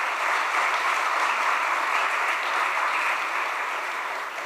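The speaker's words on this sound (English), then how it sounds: "Can we just have another huge round of applause for them again?" Sustained applause from an audience after a dance performance at a devotional talk show, a dense steady wash of clapping held at an even level throughout with no voices over it.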